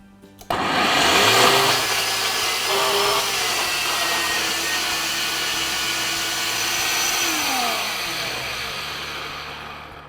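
After a couple of small clicks, a blender roars to life, pureeing roasted carrot soup vegetables with drained tomatoes. It whirs loud and steady, its motor pitch shifting as the contents churn.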